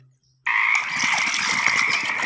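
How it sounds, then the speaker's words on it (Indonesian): A cartoon frog croaks in an animal-cleaning video game, a single loud, close, sustained croaking call that starts abruptly after a brief silence and runs steadily to the end with no voices. "Ini adalah kodok teman-teman."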